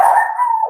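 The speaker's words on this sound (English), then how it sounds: "my dog is barking" A dog lets out one short, loud, close howling bark with a steady whining tone, alone with no other sound.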